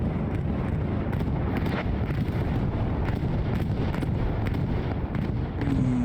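Bombing run in the WWII shooter Hell Let Loose, a dense, continuous rumble of explosions and blasts, loud and sustained like a barrage, with a faint voice late on.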